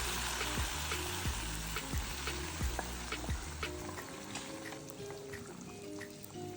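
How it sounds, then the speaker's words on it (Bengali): Chopped garlic and onion tempering crackle and sizzle in hot oil for a curry of bitter gourd, with several sharp pops and spatters early on over a steady hiss. "এখন আমি বাগার দিয়ে দিচ্ছি।"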